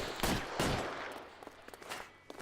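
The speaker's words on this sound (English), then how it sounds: "I'm gonna shoot somebody." Two loud gunshots in the detective game LA Noire, sharp cracks close together near the start, followed by scattered lighter clicks and thuds.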